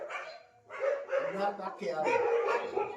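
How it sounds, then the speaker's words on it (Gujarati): Street dogs bark in a residential lane, several sharp overlapping barks and yips that continue through most of the stretch, close and fairly loud, with people talking around them. "જો ચાલુ થયા અમારે કૂતરા."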